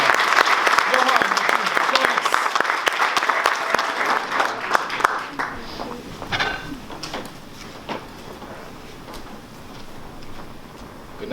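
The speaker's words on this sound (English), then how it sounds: "give him the most verbose round of applause you have this evening" An evening event audience breaks into loud, dense applause that gradually thins into scattered claps and fades, with a voice speaking briefly near the end.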